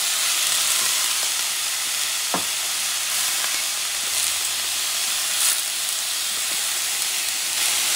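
Habanero pepper with its seeds frying in a pan, a steady bright sizzle and hiss close by with a few small pops and scrapes, no talking.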